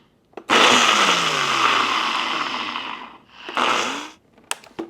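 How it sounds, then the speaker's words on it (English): A blender whirs loudly for a few seconds, cuts off briefly, then pulses again before stopping. "we're going to try to make this smooth in our blender"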